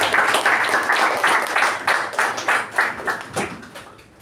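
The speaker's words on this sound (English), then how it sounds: "With a huge round of applause, please welcome Toastmaster Sai Snehal." At a Toastmasters club meeting, an audience claps to welcome a speaker: close, crisp applause with a pulsing rhythm that gradually thins and softens toward the end.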